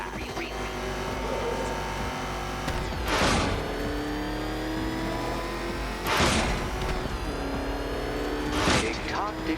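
Batmobile engine in the video game Arkham Knight, a steady low motor drone with three loud revving bursts spaced a few seconds apart, heard alongside game speech.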